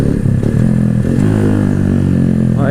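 Keeway Cafe Racer 152 motorcycle engine running close by, a steady mid-pitched drone with a brief rev rising near the end as the rider shifts up a gear, with no talk over it.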